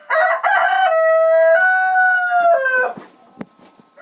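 A bantam rooster crows loudly and close by in one long, drawn-out call, followed by a couple of soft clucks and faint rustling.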